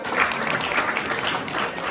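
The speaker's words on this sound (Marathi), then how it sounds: "त्यांच्यासाठी पण तिच्या आजी आजोबांसाठी पण आपण जोरदार टाळ्या वाजवूया" Dense applause from an audience at a Satyanarayan Mahapuja prize-giving in Kotawade, Ratnagiri, a steady crowd of many hands clapping at moderate distance, fairly quiet and without speech over it.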